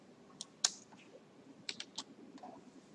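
Typing on a computer keyboard while entering a shell command line, a few scattered key clicks over quiet room noise.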